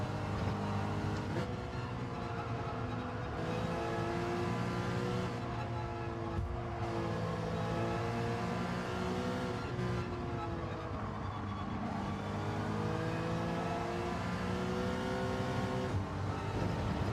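Race car engine in Gran Turismo 7 revving hard through the gears with steady loud drone, rising and falling pitch as it climbs and bounces off the limiter, brief dips between shifts, no talking.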